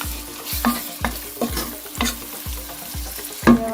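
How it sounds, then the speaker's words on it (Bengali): A chickpea masala with turmeric and black pepper powder being sautéed in a pan, rhythmic spatula strokes scraping roughly every half second over a constant sizzle, close and clear with no talking. "হাফ টিস্পুন হালমরিচের পাউডার দিয়ে আবারও মশলাটা কষিয়ে নিচ্ছি"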